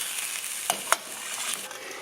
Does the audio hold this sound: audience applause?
no